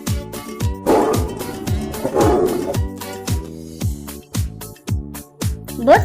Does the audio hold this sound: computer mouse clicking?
no